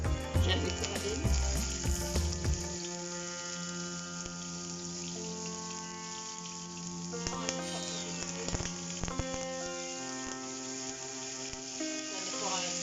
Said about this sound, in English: onions and other ingredients can fry gently.